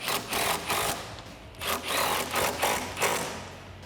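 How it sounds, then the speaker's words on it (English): A hand ratchet with an extension and a 13 mm socket clicks in quick, rhythmic bursts while tightening rear control arm bolts on a Mustang, with close, repeated pulses separated by brief pauses. "now we can grab an extension and a 13 socket and tighten down those bolts"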